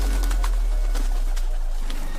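A magical bird in an animated story coos softly in short repeated calls over a low steady hum, with no talking.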